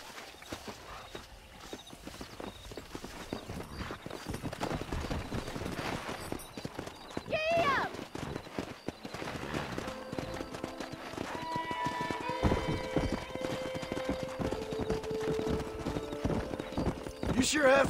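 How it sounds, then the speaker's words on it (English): Horses in Red Dead Redemption gallop with steady, loud clip-clop hoofbeats and let out a few whinnies, accompanied by game music and speech from characters. "Let's see if we can't wrangle some horses."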